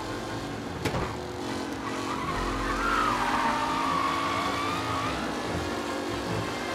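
A V8 race car in the video game Mafia Definitive Edition on race day roars steadily with a rising engine note, with tires skidding and squealing mid-run, loud and continuous.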